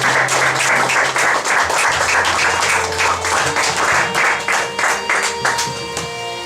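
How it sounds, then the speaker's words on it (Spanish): A church congregation applauds the Lord during a service in Lima, Peru. The clapping is loud and dense over a sustained organ or keyboard drone, with occasional voices mixed in. "Denle un aplauso al Señor"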